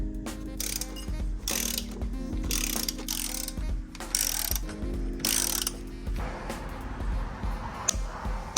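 A torque wrench tightens the shock bolts on a Harley-Davidson Sportster to 40 foot-pounds, with repeated ratcheting clicks in bursts and metallic handling noises, close up in a workshop.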